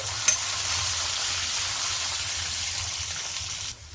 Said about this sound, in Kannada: ಈ ಟೈಮಲ್ಲಿ ನಾನು ಶುಂಠಿ ಬೆಳ್ಳುಳ್ಳಿನ ತೆಗೆದಿಟ್ಕೊಂಡಿದ್ನಲ್ಲ ಅದನ್ನು ಸೇರಿಸ್ಕೊಂಡು ಹುರ್ಕೋಬೇಕು.